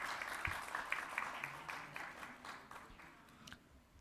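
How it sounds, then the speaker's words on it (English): Modest applause from a conference audience during a memento presentation, fairly quiet and slightly uneven, fading over a few seconds. "Big applause, everybody."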